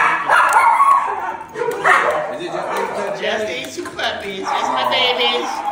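Schnauzer puppies yip and bark in short bursts, with whimpers in between, close by and fairly loud.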